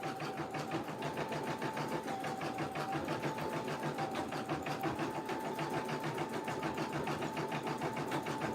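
A sewing machine stitches an embroidery outline in a fast, steady mechanical chatter with a faint motor whine, moderately quiet and continuous, with no talk.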